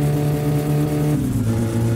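A Satsuma car engine in the video game My Summer Car roars loudly up close, revving steadily then dropping in pitch as it shifts, a harsh continuous drone.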